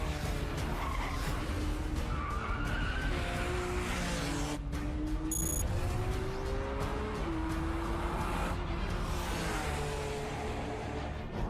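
Rear-engine supercar accelerating hard at full throttle, engine note rising and dropping abruptly with rapid automatic gear shifts, loud and continuous with tire noise throughout.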